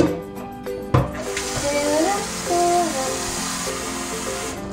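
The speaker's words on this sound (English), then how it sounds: "So we're gonna fill it up with some water." Tap water runs into a metal pan nearby, the pitch of the splashing rising and shifting as it fills, after a brief clunk at the start.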